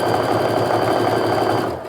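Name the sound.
sewing machine stitching a quilt seam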